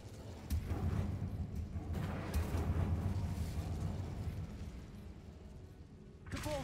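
The Incendio fire spell is cast in Hogwarts Legacy, a dark underground catacomb setting, and answers with a rumbling, roaring burst of flame that swells, holds steadily for several seconds, then fades, ending in a brief bright chime.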